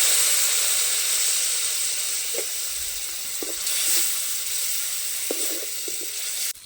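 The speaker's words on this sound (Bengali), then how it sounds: "এখন মশলাগুলো ভেজে নেব সামান্য পরিমাণে জল দিয়ে দেবো মশলাটা যাতে পুড়ে না যায়" Spices with a splash of water sizzling and hissing steadily in a pan for a tomato chop, a continuous close frying hiss with a few soft stirring knocks.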